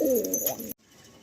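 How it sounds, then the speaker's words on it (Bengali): A racing pigeon in a loft gives a short, close, throaty coo lasting under a second. Near silence follows. "দেখুন এখানে 3টে পায়রা আছে"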